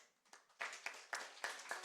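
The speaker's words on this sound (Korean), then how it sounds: "박수 한번 주세요." Faint, distant applause from a church congregation during a Sunday worship service, heard as a few rhythmic rounds of clapping about a quarter second apart.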